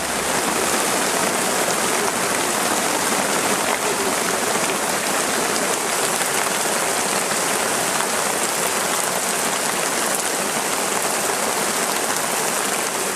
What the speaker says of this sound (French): Une averse inopinée se produit alors.